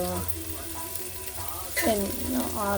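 Green chillies and whole spices such as pepper, cinnamon and black cardamom frying in hot oil, a steady close sizzle with some stirring scrapes and a tonal hum in the background.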